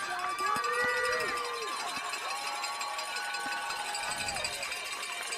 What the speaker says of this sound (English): Crowd's getting a little louder.